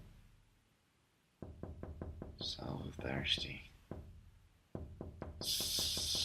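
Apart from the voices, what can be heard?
knocking at a door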